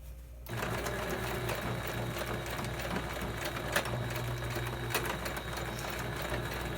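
A sewing machine runs steadily while stitching through folded fabric for a heat pack, a close, even mechanical whir with a fast regular rhythm and no talking.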